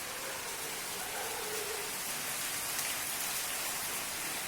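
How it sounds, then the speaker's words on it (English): Steady morning rain falls in Mcleodganj, a dense, even hiss of raindrops on surfaces that holds constant throughout, moderately loud with no talk over it. "As you can hear from the rain voice that rain is increasing."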